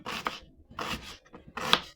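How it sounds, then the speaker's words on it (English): Three short bursts of a small food processor chop onions and bell peppers, a whirring, rattling pulse with brief pauses between, close and moderately loud. "We're using a food processor,"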